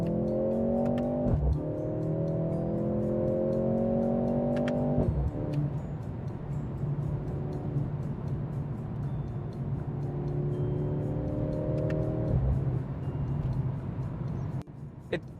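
A Mercedes C43 W206 with a 2-liter four-cylinder engine pulls hard while driving, its steady drone rising in pitch through several gears with brief dips at each shift, loud and close throughout.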